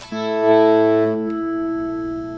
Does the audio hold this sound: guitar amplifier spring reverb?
yes